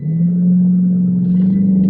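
A Jeep SRT with a Hemi V8 holds steady at high revs under launch control, a loud, close, deep engine drone with a steady throb.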